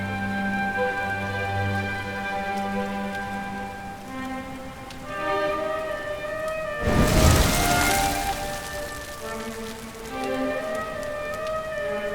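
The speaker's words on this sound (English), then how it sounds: "Looks like the rain's dying down." Steady rain falls in the Dragon Quest XI S fantasy role-playing game, a continuous wash of patter over soft game music, with a brief louder swell of rain noise midway.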